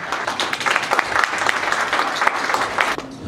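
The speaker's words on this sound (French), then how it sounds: "On applaudit très fort pour le Cameroun" An audience at a year-end gala evening applauds warmly, a dense burst of clapping close and loud for a few seconds before easing off at the end.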